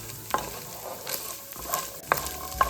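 Chickpeas warming and crisping in a pan with spinach and Parmesan, a low steady sizzle broken by several scraping stirs, close and alone with no voices.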